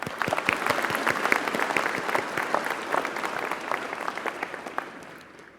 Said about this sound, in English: let's begin by giving ourselves a big round of applause